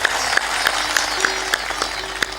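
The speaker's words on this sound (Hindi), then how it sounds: "ताली जोर से बजाया करो" Audience clapping hands at a talk, a steady rhythmic clap repeated roughly every third of a second with a wash of scattered applause behind it, fairly loud and continuous.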